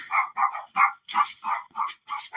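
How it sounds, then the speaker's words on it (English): Dogs barking in a quick series of about nine sharp, evenly spaced barks, fairly close and clear, with no talking over them. "And now the dogs are barking."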